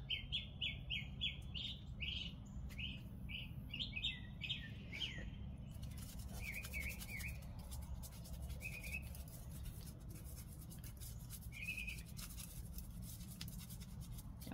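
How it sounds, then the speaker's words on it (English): A garden bird outdoors gives a rapid run of high chirps, followed by a few sparse calls. Steady low background noise continues throughout, and the bird sounds faint. "Bird is telling me, go in the house so I can come and eat."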